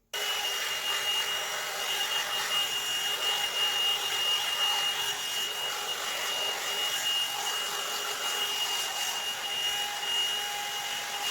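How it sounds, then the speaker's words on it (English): A hair dryer blows steadily and loudly, with one continuous even whoosh while hair is blow-dried with a round brush near the face, and no one talks. "I like to blow dry away."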